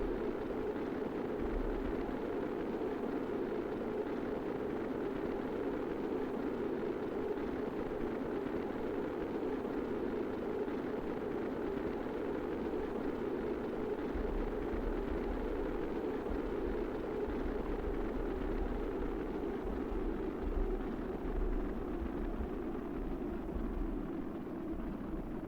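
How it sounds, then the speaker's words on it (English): Distant explosions rumble in the Kerbal Space Program video game, a steady low roar that holds at even loudness throughout with deep thudding swells near the start and again past the midpoint, no voices. "5-10 kilometers away, we can still hear the explosions."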